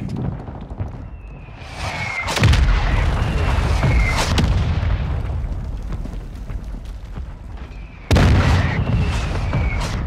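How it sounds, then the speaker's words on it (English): Mortar strike explosions in Call of Duty: Modern Warfare II land near a building in heavy booming blasts, two big impacts about six seconds apart with rumbling gunfire in between. "they put a mortar strike on our building"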